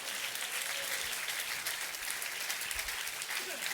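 A church congregation claps for a married couple, a continuous, fairly close wash of applause with a few faint voices mixed in underneath.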